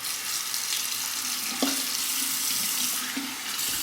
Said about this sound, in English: A quick face rinse.